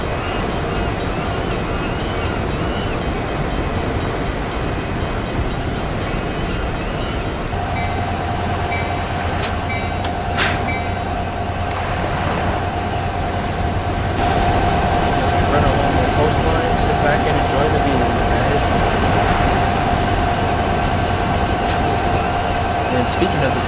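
An Amtrak Surfliner train running in the Open Rails simulator rumbles along steadily, with a sustained tone joining partway through and a few clicks, all under continuous talk.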